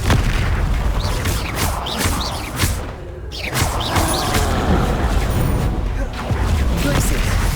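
Confringo spell blasts in Hogwarts Legacy combat land as loud, booming explosions and heavy thuds, one after another amid dense game effects, with a brief dip near the middle and a voice speaking over the action.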